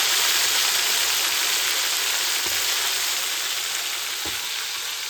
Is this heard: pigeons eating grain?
no